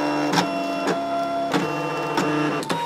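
A Brother ScanNCut cutting machine scoring balsa wood, its steady motor whir carrying several sharp snapping clicks at irregular intervals as the blade moves along.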